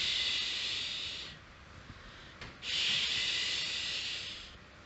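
A voice imitates slow breathing with two long, soft shh sounds separated by a quiet pause.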